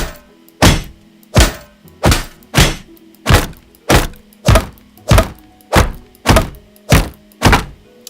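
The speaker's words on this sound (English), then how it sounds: "So these are great block sounds, like if a metal weapon is hitting a shield or a wood weapon is hitting a shield" Medieval battle block sounds of metal or wooden weapons striking a shield: eleven sharp, loud, evenly spaced impacts about 0.7 seconds apart, each a hard thunk with a short ringing tail, close and alone with no talking.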